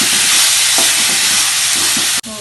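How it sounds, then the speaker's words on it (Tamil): Cabbage and mixed vegetables sauté in a hot pan with a loud, continuous sizzle and occasional stirring scrapes, ending in a sudden stop. "இதெல்லாம் கொஞ்சம் நல்லா வதக்கிட்டோம்னா அப்படியே முட்டையில் கொட்டிடுவோம்"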